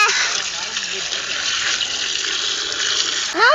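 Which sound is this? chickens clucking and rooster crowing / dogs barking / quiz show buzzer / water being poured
water being poured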